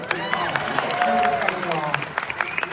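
Scattered audience clapping at a theater Q&A with three actors, individual claps popping irregularly over voices and cheers from the crowd.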